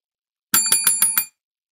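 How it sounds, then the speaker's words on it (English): A bell is struck five times in quick, even succession, each bright metallic ring cut short by the next, loud and close, with silence before and after. "We're going to smack that bell."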